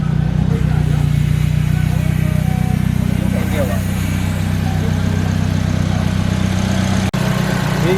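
A Maruti Suzuki Swift engine, started with its air filter removed, idles at a steady, even rumble in a workshop during a major service. Faint voices sit under the engine, and a single sharp click sounds near the end.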